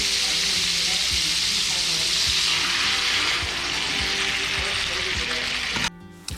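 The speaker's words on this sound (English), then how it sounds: "Let's listen to that sizzle." Garlic parmesan seasoned ribeye steak searing in a hot pan, a loud, steady close-up sizzle with crackling spatter that drops off abruptly near the end.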